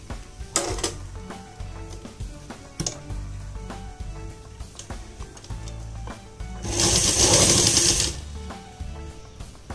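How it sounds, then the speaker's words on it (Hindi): Sewing machine stitching along a kurti neckline, bursts of rapid mechanical ticking with short pauses between runs and one louder, longer whirring run near the end. "अब हम इस गले पे भी सिलाई लगा देंगे।"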